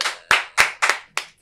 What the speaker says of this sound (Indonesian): Tepuk tangan boleh dong.